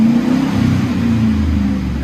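A Chevy Silverado with a 5.3L V8 and aftermarket exhaust revs in a steady, deep, loud drone that holds throughout, with the low rumble dominating and no talk over it.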